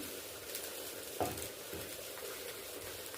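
Ginger, garlic, green chillies and tomato fry lightly in a pan with a faint, steady sizzle, broken by a single soft clink partway through.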